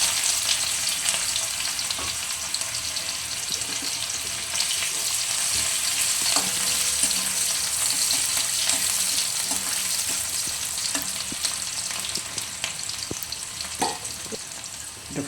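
Chopped onion frying in a small amount of oil for a potato, spinach and eggplant dish, a steady close sizzle with faint crackles and occasional clinks running throughout without talk.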